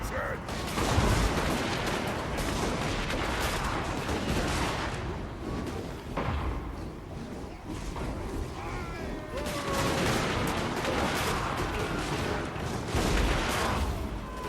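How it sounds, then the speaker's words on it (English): Dwarf Thunderers and cannons fire in a Total War: Warhammer battle against Chaos, a dense, continuous volley of overlapping gunshots and booms that rolls on loudly throughout, with brief lulls and renewed bursts. "We're going to see the Thunderers open up fire."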